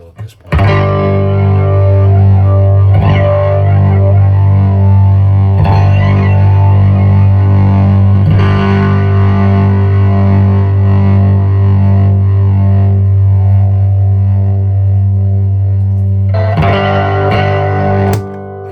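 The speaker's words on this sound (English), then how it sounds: "It's just a big volume boost with a little bit of dirty flanging in the background, but not like a nice kind of dirt." A vintage 1980 DOD 670 flanger pedal gives a loud, distorted guitar tone with dirty flanging, repeated sustained chords ringing out with sharp attacks and a brief pause near the end.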